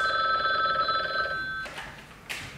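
An old-style telephone bell rings in a short metallic trill, then cuts off and fades into quiet room noise, with a brief click near the end and no voices.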